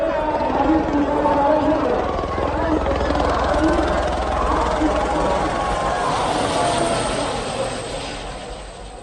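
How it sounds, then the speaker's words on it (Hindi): A helicopter showers flower petals over crowds of pilgrims at the Maha Kumbh in Prayagraj, with a loud, steady rotor roar filling the scene and fading slightly toward the end. A news presenter's voice runs over it. "ये तस्वीरें आप देखिए, हेलीकॉप्टर से"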